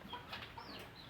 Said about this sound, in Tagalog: At ayan ang manok.